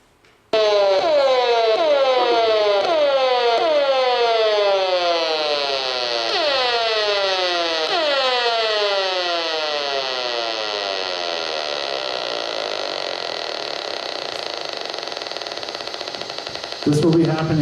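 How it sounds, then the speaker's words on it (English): Audio rendering of smart meter emissions: a loud, continuous electronic tone with rapidly repeating downward-sweeping pulses that gradually settle into a steady buzzing hum, sustained for over fifteen seconds. "you're going to get to hear an audio of what smart meters do."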